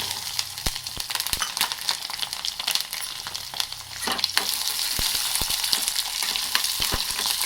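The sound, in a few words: mustard seeds and garlic frying in oil in a pan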